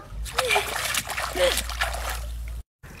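Water splashing as someone bathes during a water outage, with a few close bursts of splashes and sloshing under talking voices, then a brief cut to silence.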